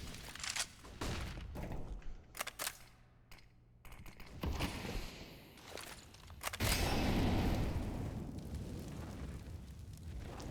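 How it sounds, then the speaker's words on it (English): Grenades thrown and detonating during a competitive Counter-Strike match in an ESEA Open Season 43 playoff, with scattered gunfire followed by a sustained, loud roar of blasts and burning noise. "Good nades by Sagi."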